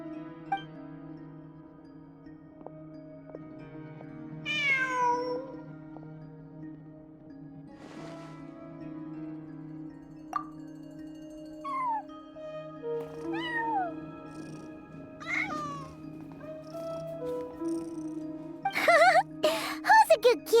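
A house cat meowing in Genshin Impact, several short rising meows spread across a quiet indoor scene, some mid-distance and some close, with a steady low hum underneath and a burst of jingly clatter near the end.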